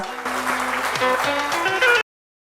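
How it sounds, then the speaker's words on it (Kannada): Audience at the Mysore Association centenary celebration in Bengaluru applauding as a guest, Dr. T. S. Sathyavathi, comes onto the stage, steady clapping with music running underneath, cutting off abruptly near the end. "ಒಂದು ಚಪ್ಪಾಳೆಯನ್ನು ನೀಡೋಣ"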